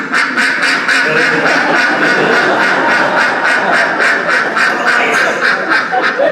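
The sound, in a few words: ducks quacking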